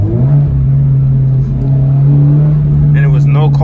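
A Toyota GR86 10th anniversary race car drives on canyon roads, its engine giving a loud, steady low drone up close, while a voice speaks over it near the end.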